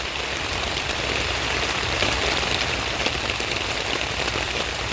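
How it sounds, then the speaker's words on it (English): Heavy rain pours down steadily in the woods, a dense, loud hiss of water hitting surfaces with no pauses throughout. "It's raining pretty hard again now."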